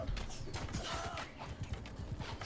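Hooves of a horse in Mount & Blade II: Bannerlord clop in a quick, steady rhythm close by, mixed with clinking gear and faint background clatter.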